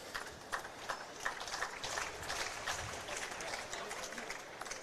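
A crowd at a lawn bowls green in Australia claps for a player walking off after a women's singles quarter-final, the applause scattered and uneven with irregular claps rising and falling at moderate distance.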